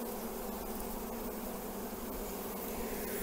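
A dense, steady hum of honeybees surrounds an open, struggling beehive, heard close and continuous with no pauses.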